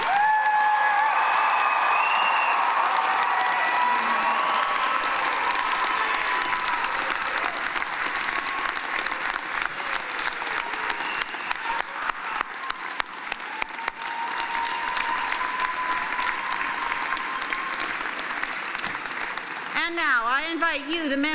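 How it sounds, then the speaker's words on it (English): Sustained applause from a large crowd honoring graduates at a university convocation ceremony, steady and full for about twenty seconds with a few scattered cheers and whoops, and a voice briefly audible over it near the end. "please join me in applauding the June"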